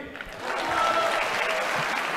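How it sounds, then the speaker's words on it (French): In the French National Assembly, the parliamentary majority applauds Interior Minister Gérard Collomb, a burst of clapping swelling after a brief pause into steady applause from many members. "Voilà Gérard Collomb qui se fait applaudir par sa majorité"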